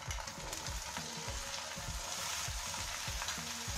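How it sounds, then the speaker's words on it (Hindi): Potatoes and turnip fry and sizzle in a spiced onion masala over a low gas flame, with a steady close hiss and repeated scraping stirs of a spoon through the pan. "प्याज भूनते समय गैस का फ्लेम लो रखें। तब आलू और शलगम डाल देंगे।"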